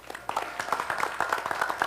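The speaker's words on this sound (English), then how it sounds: "More applause, the better." A school district gathering applauds a newly hired teacher with a short burst of scattered, distinct hand claps from a modest audience, close and fairly clear.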